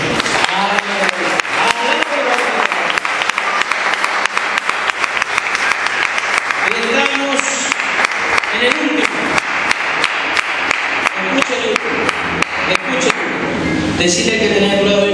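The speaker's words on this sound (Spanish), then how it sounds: "Denle un aplauso al Señor." A church congregation applauds, dense steady clapping that carries loud and unbroken for a long stretch, with scattered voices and cheers mixed in.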